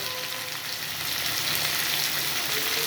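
Ridge gourd and potato pieces frying in a pan for a poppy seed sabji, giving a steady, close, even sizzle with a faint crackle throughout and no voices.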